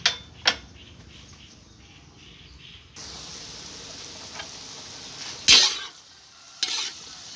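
Pork simmering in a pot of water for Thai crispy pork chili paste gives a low, steady bubbling hiss that grows fuller partway through, punctuated by a few sharp utensil knocks against the pot.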